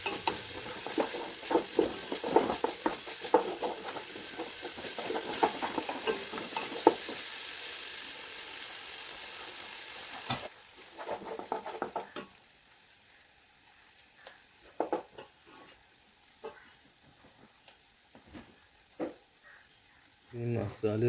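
Shallot paste sizzles and fries in a pan for a fried chicken biryani, with repeated scraping stir strokes. It is louder in the first half, then quieter frying with occasional clatters, and speech is heard at times.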